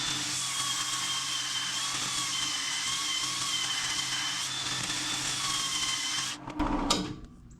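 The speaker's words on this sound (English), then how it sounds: "So first we're gonna sand with the lathe on" A wood lathe runs during sanding with a steady, high-pitched machine whine, ending with a few knocks and clatter as it winds down.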